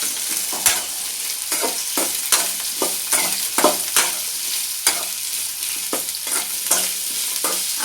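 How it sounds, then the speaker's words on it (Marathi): Okra fries in a pan with a steady sizzle, punctuated by a rapid, regular series of sharp spatula scrapes and knocks as the pieces are stirred. "भेंडी टाकल्याच्या नंतर थोडीशी हलवून द्यायची"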